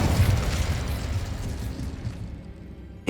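A Confringo fire spell explosion in Hogwarts Legacy, a loud rumbling blast that fades steadily over about three seconds, with a sharp pop right at the end.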